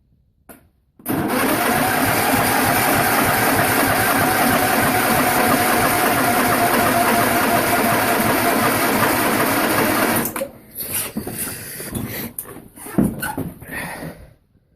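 A John Deere 210 lawn tractor engine whirs loudly and steadily at close range for about nine seconds, then cuts off abruptly, leaving scattered mechanical clunks and knocks.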